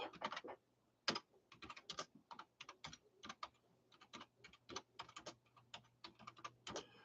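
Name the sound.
typing on a computer keyboard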